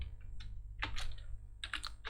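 Typing on a computer keyboard, with scattered clusters of light, close key clicks over a low steady hum and no talking.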